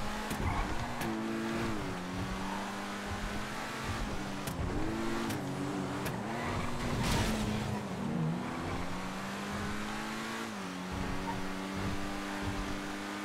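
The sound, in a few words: car driving in the video game GTA FiveM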